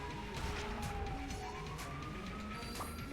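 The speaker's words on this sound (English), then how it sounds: "Now there's an ambulance siren going off." An ambulance siren wails in the distance, its tone slowly rising and falling, faint but steady over a constant background hum.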